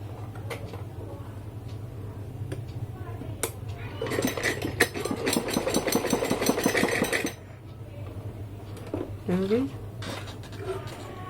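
A sewing machine stitches elastic into pants, running in one rapid rhythmic burst of about three seconds mid-clip, with a voice talking and some handling clatter before and after.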